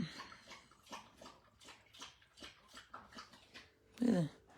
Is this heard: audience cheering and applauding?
no